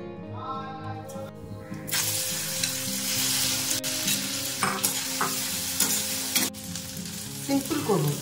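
Ingredients hit a hot kadai for a curry, bursting into loud sizzling frying after a quiet start, with stirring scrapes and clinks continuing over the steady hiss.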